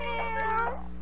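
A cartoon kitten gives a single short, high, tonal meow, clear and close over a faint steady hum.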